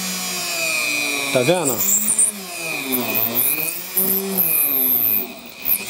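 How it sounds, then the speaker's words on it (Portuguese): An Einhell drill at speed 3 pre-drilling a hole in wood, a steady whining motor with pitch dips as the bit bites in, close and loud, while someone talks over it. "Digamos que eu quero fazer um pré-furo na madeira"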